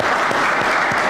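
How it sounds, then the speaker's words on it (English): Audience applause at a legislators' information session, a short, dense burst of steady clapping from a crowd, loud and close, with no talk over it. "Can we get another round of applause?"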